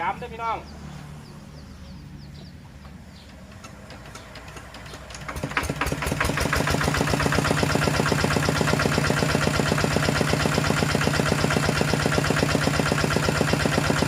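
Yamaha RT100 two-stroke engine, Siam-frame build, starting quietly then revving up to a loud, steady, buzzing high-rev drone that holds for several seconds, with some voices early on.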